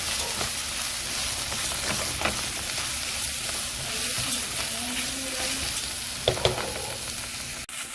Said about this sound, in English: so that's been sauteing there for a couple minutes